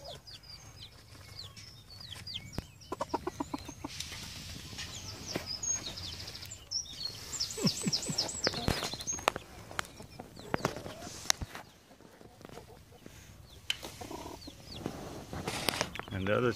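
Chickens cluck and chirp in a busy farmyard, with soft scattered calls over a steady outdoor background.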